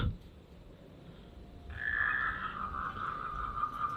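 Toads croak in a steady, overlapping chorus that swells in after a quiet start, a buzzy trilling drone close by with faint background noise.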